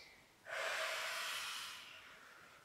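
A long breathy exhale during a vinyasa yoga session, one close airy rush that swells quickly and fades over about two seconds, with no talking.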